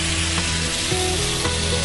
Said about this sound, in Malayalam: അപ്പൊ നമുക്ക് മാരിനേറ്റ് ചെയ്ത് വെച്ചിരിക്കുന്ന ഫിഷിനെ ഗ്രിൽ ചെയ്യാനായിട്ടാണ്